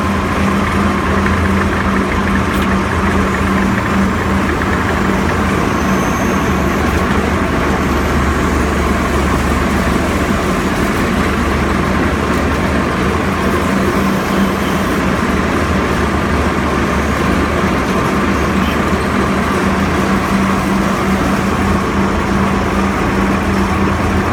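A Salsco wood chipper engine idles steadily and loud at close range, a constant low mechanical drone with a fixed hum and no break for the whole stretch.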